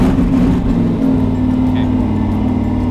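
Loud, steady drone of a Bentley engine running just after starting, a constant low hum with a firm mid-pitched tone throughout, close and unbroken, with no voices over it.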